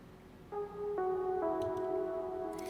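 A small synth pluck from a chill electronic song built in FL Studio 21 plays a few soft, sustained tonal notes, stepping between pitches, quiet and alone.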